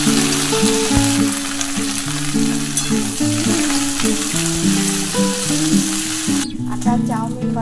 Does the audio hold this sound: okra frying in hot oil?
yes